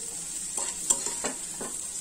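Jute leaves frying in a pan, a soft steady sizzle with a few distinct stirring scrapes spaced out, close and moderately quiet.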